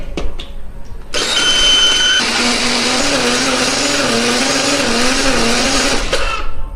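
A kitchen blender grinds fried spice paste with added frying oil, starting abruptly and running loud and steady for about five seconds with a wavering whine before stopping.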